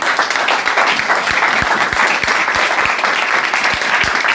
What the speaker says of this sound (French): Applaudissons donc pour lui alors